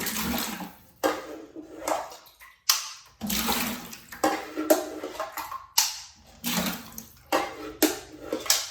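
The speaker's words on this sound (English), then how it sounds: "Got to go ahead and bail the water out. I'm going to bail it out here." Repeated scooping and pouring of water bailed out of a toilet bowl, a series of splashy bursts about once a second with brief pauses between, close by.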